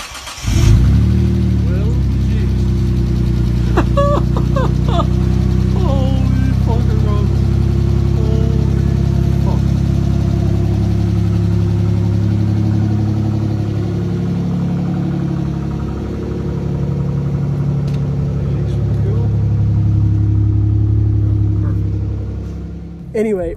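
A Mitsubishi GTO that had sat in a barn, with a stuck throttle linkage, starts near the beginning and then runs steadily: a loud, continuous engine rumble. Voices talk over it throughout.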